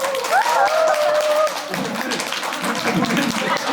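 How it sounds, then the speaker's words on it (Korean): Crowd at a live Korean fan event in Mokpo applauding, a busy spread of hand claps beneath voices and vocal sounds, continuing at a fairly even level throughout. "야옹이 좋다 하시는 분들 박수 좀 부탁드립니다."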